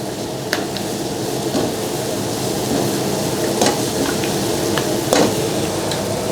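Curry powder seafood stir fry sizzling in a wok over low gas, a constant crackling hiss with occasional clanks of a utensil against the pan.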